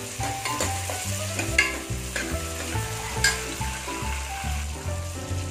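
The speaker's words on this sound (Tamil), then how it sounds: "தக்காளி வதங்கிருச்சு." Tomatoes sauté in a pan for a Tamil crab curry, a continuous sizzle under repeated scraping stirs and light clatter in a steady rhythm, close and fairly loud, no voices.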